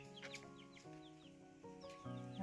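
Several chickens cluck outdoors in a rural Konkan farmyard, a steady run of close, fairly loud calls overlapping one another with no voices.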